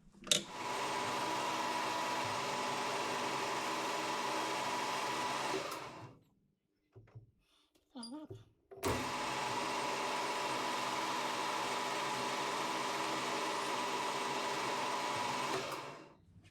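A metal milling machine with a servo power feed cuts steel in a workshop, a steady close machine whir that stops briefly for a few seconds with faint clicks before resuming.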